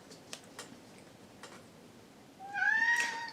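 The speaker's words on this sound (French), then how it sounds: "Mais oui, le chat." A cat meows once near the end, a rising, drawn-out call that follows a few faint ticking sounds over quiet background.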